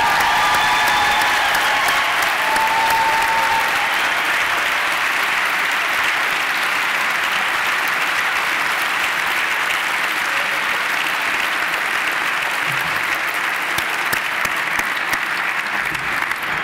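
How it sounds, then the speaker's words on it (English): Veterans are honored at a heroes gala as a large crowd gives loud, sustained applause that holds steady throughout. A few voices briefly rise over the clapping near the start. "Let's give them all a round of applause, please."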